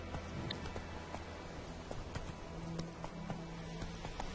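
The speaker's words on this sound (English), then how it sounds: "And now let's try the horse" Roach, Geralt's horse in The Witcher 3 game, runs with a steady clip-clop of hooves under a constant low background hum, moderately loud and continuous throughout.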